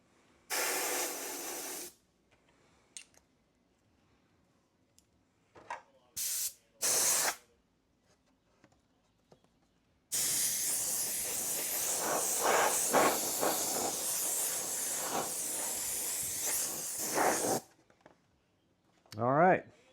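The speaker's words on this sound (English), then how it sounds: "we got it all trimmed up and ready to spray some black" Wicked Black aerosol paint sprayed onto a custom Tekno ET48 RC car body, loud close hissing bursts: several short sprays, then one long continuous spray of about seven seconds, with a quiet talking voice in the gaps.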